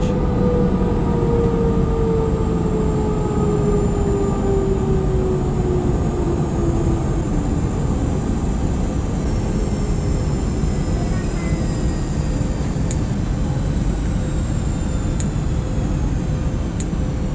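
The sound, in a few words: Cathay Pacific A321neo at gate, jet bridge connecting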